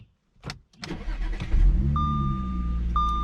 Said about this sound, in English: When you start the car,